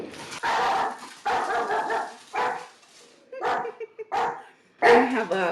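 A dog barks repeatedly in agitated bursts, with yips and whimpers, as fireworks go off nearby; the barks are loud, close and irregular, separated by short pauses.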